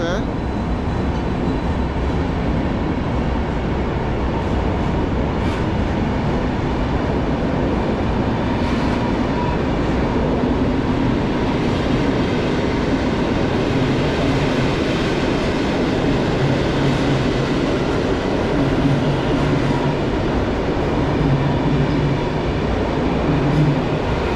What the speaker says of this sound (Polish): przed nami Flirt Stadler